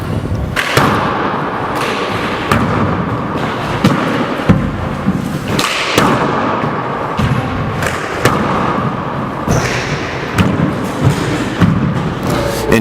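Racquetball rally on a four-wall court at a professional invitational, with sharp thuds of the ball striking walls at a quick, irregular rhythm, carried over steady crowd and room noise.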